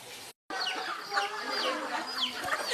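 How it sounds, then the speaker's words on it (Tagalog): A flock of native chickens clucks while feeding, with many overlapping soft clucks and a few higher calls close by. The sound is continuous apart from a brief dropout near the start. "These are a native chicken."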